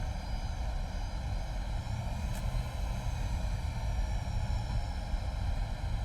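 A Just Flight F28 jet taxis in Microsoft Flight Simulator, its engines giving a constant loud droning roar with a steady high whine layered on top, unbroken and without speech throughout.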